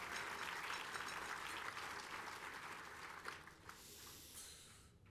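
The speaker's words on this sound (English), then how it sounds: "Let's give her a round of applause as well." A large audience applauds at a Hall of Fame induction ceremony for the 2019 Toronto Raptors basketball team. The clapping is dense and sustained, then fades out near the end.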